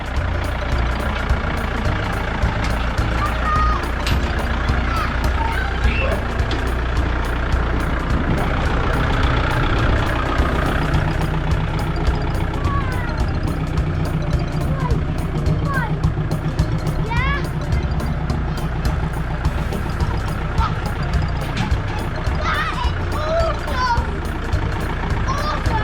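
A tractor engine idles and chugs steadily as it reverses, towing a trailer hooked to its front bucket, a constant low rumble throughout with people talking over it and occasional higher whines.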